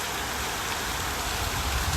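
Heavy monsoon rain pours steadily outside a window in Shillong, a dense even hiss with a low rumble underneath, unbroken throughout and without voices.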